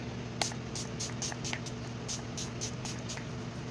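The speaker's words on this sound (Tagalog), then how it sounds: "Naglalagay lang ako nitong black truffle na setting spray ng Jimilan." Black truffle makeup setting spray misted from a pump bottle: about ten short, crisp hissing spritzes in an uneven rhythm, close to the mic over a steady low room hum, with no talking.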